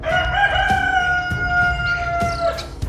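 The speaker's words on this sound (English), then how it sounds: "if you heard that rooster crow" A rooster in Minecraft crows one long, loud, drawn-out call that holds steady across the whole stretch, with a few soft thumps and clicks underneath and no talking.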